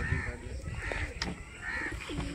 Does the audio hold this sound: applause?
no